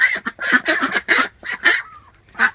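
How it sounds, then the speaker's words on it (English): Heavy Pekin ducks with hip and foot problems, kept segregated, give a run of loud, close, nasal quacks in quick bursts, then a short pause and a final quack. "these are my lame ducks"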